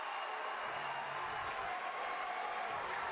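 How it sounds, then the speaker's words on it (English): A Southern Utah crowd at a college gymnastics meet applauds and cheers in a dense, steady roar, heard from a distance with no break. "That is the loudest ovation we've heard from this Southern Utah crowd so far tonight"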